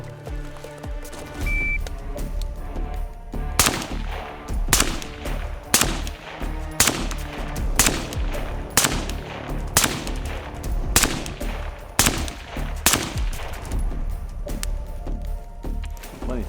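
Rifle shots fired at a 100-yard target on an outdoor range, a string of about a dozen loud, sharp reports spaced roughly one to two seconds apart, ringing over faint background noise.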